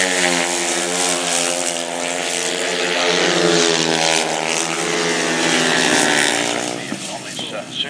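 350cc grasstrack motorcycles racing at a pairs meeting, their loud engine drone rising and falling as the bikes pass, with a commentator talking over the noise throughout.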